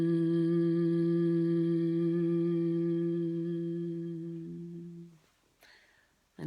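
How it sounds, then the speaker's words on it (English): A person breathes out with a steady, sustained hum, near and clear, fading away over several seconds before a brief soft breath at the end. "And then just breathing out with a hum."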